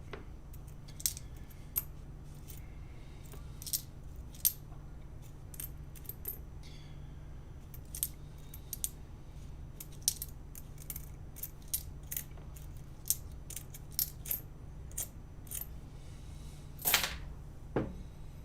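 Coins from coin rolls sorted and dropped one by one, sharp metallic clinks and taps at irregular intervals over a quiet background, with a brief rattling spill near the end.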